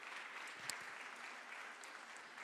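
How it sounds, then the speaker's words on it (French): An audience at a round-table conference applauds four panelists, steady dense clapping from a large room, moderately distant and uniform across the whole stretch. "On peut les applaudir tous les 4."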